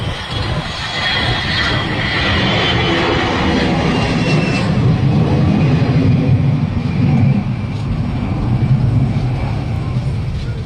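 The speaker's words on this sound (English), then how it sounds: "Windshear at Madeira Airport caused this Airbus A320 to go around with a sharp right" Loud, steady roar of an Airbus A320's jet engines during a go-around in windshear at Madeira Airport, broadband and continuous, with a faint voice underneath.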